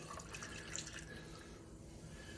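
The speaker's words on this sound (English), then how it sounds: "you're going to pour the Coke over top of it." Coke poured over the top of a mixed drink in a glass, a steady close liquid stream with light fizzing and splashing running unbroken throughout, with no voices.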